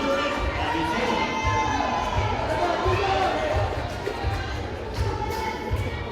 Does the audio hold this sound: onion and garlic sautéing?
no